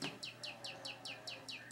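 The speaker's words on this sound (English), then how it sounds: "Where's the bird, Steve?" A bird sounds from inside a cup: a rapid series of about eight bright, evenly spaced chirps over roughly a second and a half, fairly close and clear, with no talking over them.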